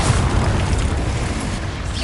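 A fire-spell explosion from the Hogwarts Legacy video game: a loud, dense blast of rumbling roar that holds steady for about two seconds.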